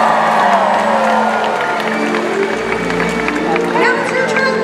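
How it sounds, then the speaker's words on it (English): Audience at a SeaWorld Orlando orca show, a large crowd cheering and whooping in an outdoor stadium, loud and sustained, with an announcer's amplified voice and music running underneath. "let's give Trua a great big cheer"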